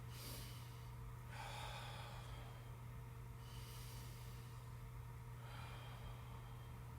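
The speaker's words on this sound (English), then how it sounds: "So let's just take a deep breath in and out." A deep breath is drawn in and let out during a vocal warm-up at a rehearsal, two soft airy swells over a steady low mechanical hum.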